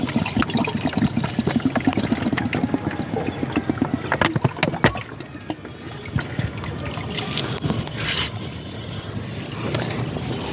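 Water splashes and trickles as it is poured out at home, a continuous wet, noisy pour with scattered clatter and knocks, fairly close and steady throughout with no talk.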